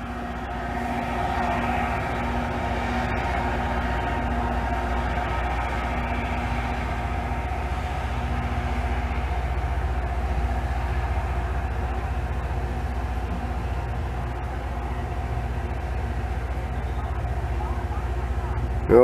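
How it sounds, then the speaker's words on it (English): A steady, rumbling work train sound with a low droning hum and faint rail clatter, continuous and moderately loud throughout as the train pulls out. "there's that work train just pulling out now"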